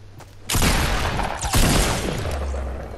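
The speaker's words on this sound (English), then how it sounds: "He was being sniped at by someone." Sniper fire in the Fortnite video game: loud shots crack close by, one burst near the start and another about a second later, each followed by a decaying rumble.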